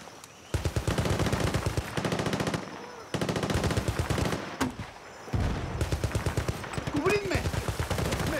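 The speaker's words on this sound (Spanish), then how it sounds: "¡Me están disparando!" Rapid automatic gunfire from Battlefield Bad Company 2 on Xbox 360, loud, near bursts that repeat across the whole stretch, with brief pauses between volleys and a player shouting now and then under the shots.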